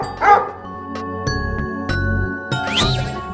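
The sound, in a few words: dog barking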